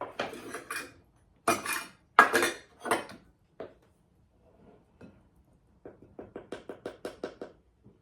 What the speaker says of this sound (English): we need to sift 2 cups of flour